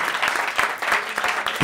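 An audience at a live stand-up comedy monologue claps in a steady patter of many hands, fairly loud, with a brief thump at the end.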